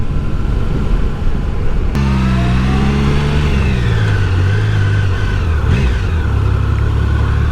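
Loud, close Suzuki V-Strom 650 motorcycle engine revving up with rising pitch after a sharp start, then settling into a steady throaty drone.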